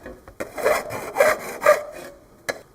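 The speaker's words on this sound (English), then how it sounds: "Now using a file, I'll deburr the edges." A hand file rasps along the edges of a freshly cut aluminum gauge face in several short, close scraping strokes, with a brief final tap after a pause.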